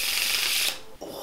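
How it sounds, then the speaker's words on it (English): A deck of playing cards shuffled by hand during a card trick, a loud continuous riffle that stops abruptly, followed by a brief soft squaring of the deck. "take these cards from here, give them a little shuffle"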